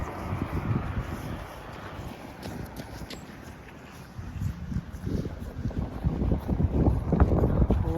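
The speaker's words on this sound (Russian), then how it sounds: "О, ветер просто ледяной." Icy April wind blows outdoors in Ukhta, Komi Republic, as a steady low rumbling roar with gusts that strengthen and grow louder toward the end, buffeting the microphone throughout.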